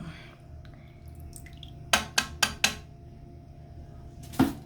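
Blue gel from dissolved toilet tablets being stirred in toilet bowl water: four quick wet sloshing splashes in a row, then one more after a pause, close up over a steady low background hum.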